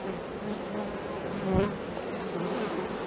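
Honeybees buzz softly and continuously on a hive frame during a powdered-sugar varroa mite treatment, a close, low hum with a brief louder swell midway.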